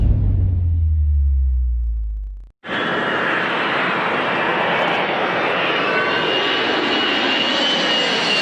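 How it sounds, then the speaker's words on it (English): An Air France Concorde jet takes off from a runway at Charles de Gaulle Airport with its left wing on fire. A low droning tone cuts off abruptly into a loud, steady, broadband engine roar that continues to the end. "The aircraft lifted off the runway with flames hanging on its left wing."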